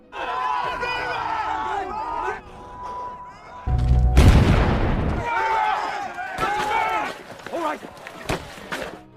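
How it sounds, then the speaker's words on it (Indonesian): A German bunker is blown up in the war film The War Below: a heavy, booming blast bursts out midway through chaotic battle noise, with shouting voices and gunfire before and after. "Komandan Jack memerintahkan teman-teman William untuk segera meledakkan bunker Jerman."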